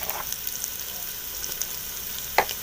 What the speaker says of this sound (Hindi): अब हम इस मसाले की थोड़ी सी भुनाई कर लेते हैं